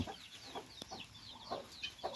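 Native chickens of the Pradu Hang Dam breed cluck softly in an old egg-laying coop, with scattered short calls repeating every half second or so, faint and somewhat distant.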